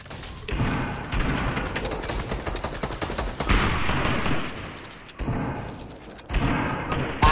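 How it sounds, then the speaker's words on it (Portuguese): Rapid bursts of gunfire from the Fortnite video game, dense and loud, running nearly continuously with brief lulls and heavy thuds mixed in. "Eu dou 30 tiros no cara, o cara não morre."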